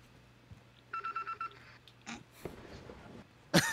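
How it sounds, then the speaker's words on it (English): In the Warzone video game, a short burst of electronic phone ringing sounds, a quick series of beeping tones, amid faint game noises and a loud clatter at the end. "Ah, phone's ringing for you, Vince."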